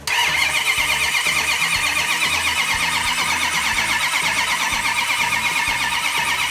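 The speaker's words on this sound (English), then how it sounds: "Let's crank it over for a little bit," A numbers-matching Hemi engine in a Plymouth Cuda cranks over on the starter without firing, a loud, steady, rhythmic churning that runs continuously close up with no voices.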